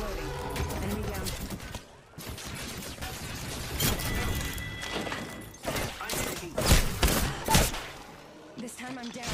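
Gunfire in a shooter video game, bursts of sharp shots and thuds coming in clusters over busy game noise, with a voice speaking over much of it.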